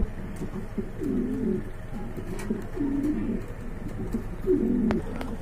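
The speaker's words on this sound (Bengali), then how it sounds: "এখানে কিন্তু বন্ধুরা কিছু সিঙ্গেল কবুতর রয়েছে" Pigeons in a loft of show birds coo repeatedly, low soft burbling calls recurring every second or so over a steady background hum, with faint clicks and shuffling nearby.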